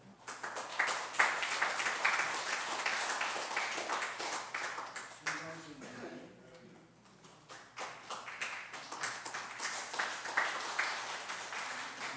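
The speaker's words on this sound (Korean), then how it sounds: "자, 우리 한번 격려의 박수 다시 한번 하겠습니다." A church congregation at a Sunday service applauds in encouragement, dense clapping from many hands that dips briefly midway and then swells again, fairly distant and soft.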